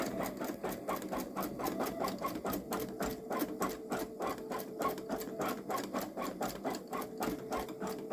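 A Babylock Solaris Vision sewing machine stitching long stitch embroidery, a steady fast mechanical whirr with a regular rapid needle beat, close and continuous throughout.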